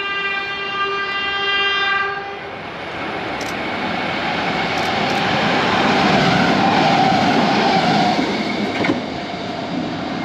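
A Comeng electric evaluation train, a shorter yellow set, passes close with a long sustained horn blast at the start, then a loud steady roar of wheels and motors that swells toward the middle and stays loud to the end.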